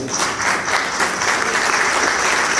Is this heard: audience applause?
yes